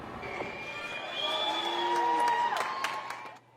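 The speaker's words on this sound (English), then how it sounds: "that is Chilean President-elect Gabriel Boric, who was welcomed by cheers and applause at the presidential palace today" A crowd cheering and whooping to welcome Chilean President-elect Gabriel Boric at the presidential palace, a mid-distance swell of voices and shouts that builds and then fades out near the end.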